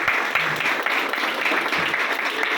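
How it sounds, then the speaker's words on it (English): Audience clapping at the close of a school debate, a dense steady patter of many hands that continues throughout without a break. "So claps for everyone."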